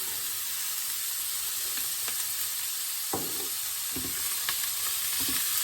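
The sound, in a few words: sparassis crispa mushroom sizzling as it grills in pan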